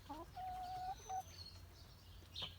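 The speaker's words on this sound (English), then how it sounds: "There's a couple of my cockerels that are still here." Several cockerel calls, short clucks and a drawn-out squawk, sound faintly from a short distance against a quiet outdoor background.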